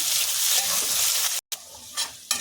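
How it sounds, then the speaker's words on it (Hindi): Crushed garlic, green chili and ginger sizzle among frying onions for a sem aloo curry, a loud, steady close hiss with stirring scrapes and a brief silent gap before it resumes. "अब इसमें डालेंगे लहसुन, मिर्ची, अदरक कुटी हुई।"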